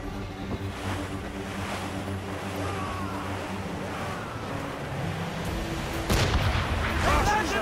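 Ship cannons fire at sea in the video game Assassin's Creed Rogue: booming volleys go off over a continuous roar of waves and wind, growing louder near the end, with faint voices in the background.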